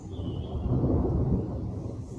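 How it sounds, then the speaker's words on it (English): Thunder rolls in the distance as a low, sustained rumble that swells and fades slowly, with nothing else heard. "Thunder rolling in the distance."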